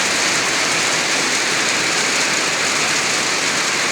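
Heavy afternoon rain pours down in South Cotabato, a dense, loud, unbroken hiss of drops filling the entire span with no voices.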